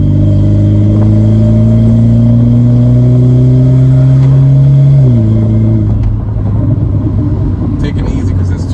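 A BMW 1 Series E88 engine revs hard under full-throttle acceleration, a loud, steady rising drone that climbs in pitch, drops sharply at a gearshift, then settles into a lower rumble as someone talks over it.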